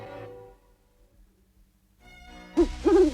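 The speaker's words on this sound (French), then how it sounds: "c'était seulement un hibou" An owl hoots near an abandoned castle: two clear, fairly loud hoots arrive near the end of the short clip, after a quiet stretch and a faint tonal voice-like sound earlier on.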